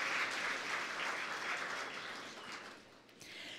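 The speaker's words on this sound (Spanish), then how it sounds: "Fuerte el aplauso para estos 12 participantes y sus asesores también" An audience at a regional oratory contest final in Darién province applauds twelve contestants and their advisers, a steady, dense wash of clapping lasting the whole few seconds.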